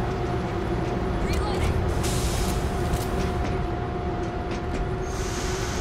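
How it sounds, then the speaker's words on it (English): Train moving in the World War Z video game, a loud, continuous rumbling roar of rolling rail wagons with a steady low hum and faint metallic squeals over it, with no voices. "Train going."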